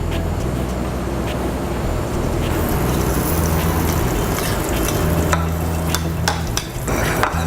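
A dish with sautéed spinach is stirred around in a pan, giving a continuous sizzling hiss with scraping and clinking strokes from the utensil, close and fairly loud.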